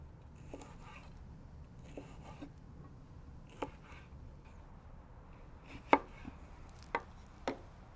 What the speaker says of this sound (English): we're going to cut these in really thin slices